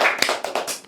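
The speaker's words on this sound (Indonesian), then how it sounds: "Tepuk tangan dulu." A short burst of clapping, several quick hand claps from a small group, fairly close and brief.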